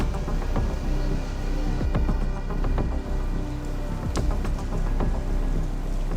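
Steady heavy rain pours down in Sri Lanka, a dense, loud wash of drops on surfaces with a few sharper splatters and knocks rising out of the constant roar.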